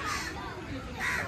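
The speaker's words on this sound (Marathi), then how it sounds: "हे तर फक्त कावळ्यांसाठीच आहे, म्हणजे अगदी कावळे पण आहेत इकडे. आवाज बघा, काव काव काव काव" Crows caw loudly and close by at Byculla Zoo in Mumbai, two harsh calls at the start and end of a brief stretch, with a person talking over them.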